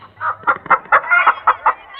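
A native country chicken clucks in a quick series of short, sharp calls, fairly close and loud, with brief gaps between bursts.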